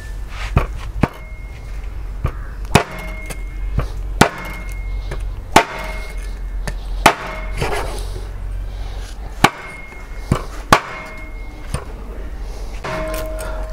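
Bony mutton being chopped for a Kerala-style curry: loud, sharp cleaver blows landing one by one at irregular intervals, about a dozen in all, with quieter handling noise between strikes.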